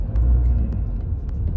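A car drives steadily through Brooklyn streets during a driving lesson, with a continuous low engine and road rumble heard from inside the cabin.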